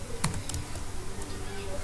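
Quick bursts of typing on a computer keyboard, a few crisp key clicks close to the microphone over a faint background hum.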